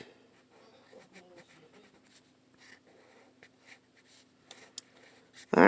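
Soft, scratchy coloring strokes on paper fill in the wings and head of a drawn fly for a frog fly-catching art craft. The strokes come in close, quiet, repeated bursts, with a louder bump at the very end.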